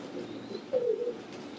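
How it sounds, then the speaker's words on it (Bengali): A pigeon of a fine breed gives a single short, low coo close by, rising briefly over a quiet background hum. "খুব ভালো জাতের কবুতর"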